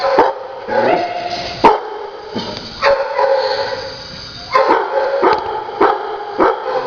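A 10-month-old, 60-pound male dog barks loudly and repeatedly, close by, in short sharp bursts separated by brief pauses.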